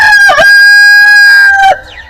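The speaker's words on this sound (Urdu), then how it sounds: "شیر مرغا اس کے سر کے پاس آ کر زور سے اذان" A rooster crows loudly and close by in a village at sunrise, one long sustained cock-a-doodle-doo lasting nearly two seconds before cutting off, with no other sounds around it.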